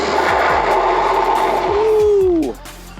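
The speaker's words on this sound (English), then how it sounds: "That back wheel was sliding out a little bit and skid probably a good 25–30 feet." An e-bike brakes hard at speed, its back wheel skidding, with a brief descending squeal over steady wind and motor rush that drops away as the bike comes to a stop.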